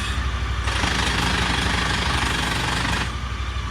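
A Honda Pioneer 1000 side-by-side grinds harshly as its transmission is shifted into reverse, a loud rattling mechanical grind over the idling engine that lasts a few seconds before easing off.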